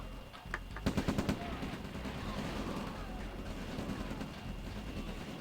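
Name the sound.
rocket troopers attacking a Tesla coil in a video game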